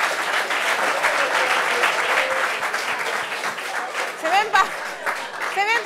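An audience applauds for a woman during a French-language gathering, steady dense clapping filling the room throughout, with a few voices calling out near the end.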